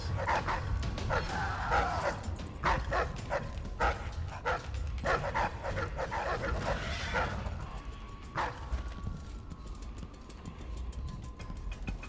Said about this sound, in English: What's up with those dogs? They don't look like normal dogs.